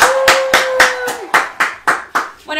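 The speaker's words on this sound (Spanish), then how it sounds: "Un aplauso para Alfredo, entonces." Hands clap in a firm, evenly spaced rhythm of about nine loud, close claps, applauding a winner named Alfredo, with a voice heard briefly at the end.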